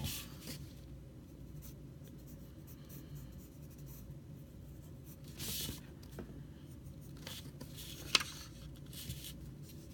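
A pen sketches very light lines on paper while drawing a car design, a soft continuous scratching and rubbing held close and steady throughout, with one brief sharper tap near the end.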